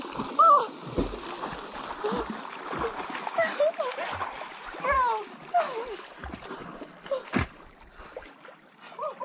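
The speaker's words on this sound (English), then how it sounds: "I'm about to jump in Colchuck Lake for a third time trying to get this video." A person jumps into cold Colchuck Lake, a mountain lake in Washington State, making a loud splash followed by sloshing water, with people talking and exclaiming throughout.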